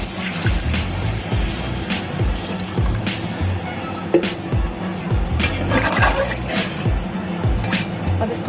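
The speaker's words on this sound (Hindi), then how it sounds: "अब इसके अंदर हम 1 लीटर पानी ऐड करेंगे।" About a litre of water pours steadily and splashes into a pot of fried chicken for chicken pulao, a continuous rushing gush with occasional clinks.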